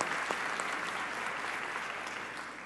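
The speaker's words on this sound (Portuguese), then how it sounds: "um forte aplauso para os que organizaram" Audience at a business leaders' seminar breaks into sustained applause for the organizers, an even, full wash of clapping throughout with no talk over it.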